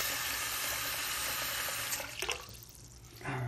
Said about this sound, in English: make sure we got a good slug of water going through the drain